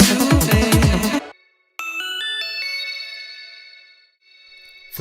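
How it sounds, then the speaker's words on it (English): A bright bell preset from the Massive synthesizer sounds a short rising run of chiming notes that ring out and slowly fade, after a brief burst of other music. "For the famous bell sound,"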